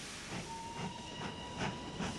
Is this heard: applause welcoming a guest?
no